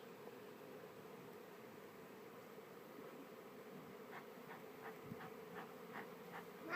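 Honey bees from a captured swarm buzz in a steady, low drone, fairly faint, with a few sharper buzzes passing nearby toward the end.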